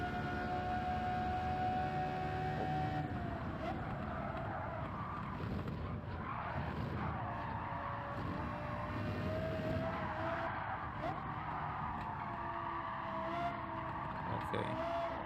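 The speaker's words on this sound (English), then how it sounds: "Wow, a lot of sliding. You hear the tires screeching. Just skidding." Tires squeal and skid in Gran Turismo 7 as a Lexus LFA slides through a race, a long sustained screech with shifting pitch over steady engine roar, continuous and loud throughout.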